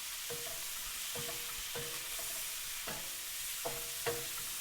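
Shrimp stir-fry in a pan with toasted sesame oil, heard as a soft constant sizzle broken by about six quiet scraping stirs at irregular intervals, with no talking.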